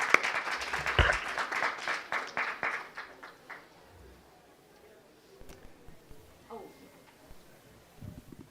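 An audience welcomes panelists to a discussion with a warm round of clapping that starts full and steady, then thins out and fades over a few seconds, leaving a quiet room with faint scattered noises.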